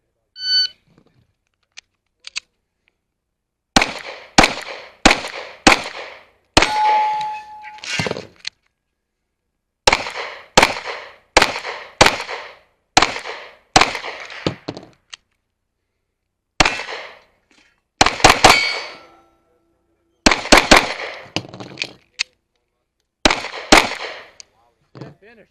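Pistol shots crack in rapid strings during an IDPA shooting stage with a backup gun, sharp close reports in bursts of two to five separated by short pauses, with steel targets ringing and no talk.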